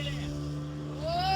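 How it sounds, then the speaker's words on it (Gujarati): A speedboat races across the sea off Shivrajpur beach, its engine droning steadily up close with a rising whine, while wind and water noise wash around it. "આપણી બોટ બહુ ફાસ્ટમાં જઈ રહી છે."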